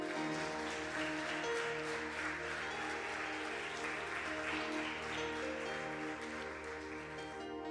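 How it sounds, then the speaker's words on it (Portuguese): A church congregation applauds during a Sunday celebration service, a soft crackling patter of many hands blended with sustained keyboard chords and steady musical tones, moderately quiet and continuous for several seconds. "Dá um aplauso a esse Deus"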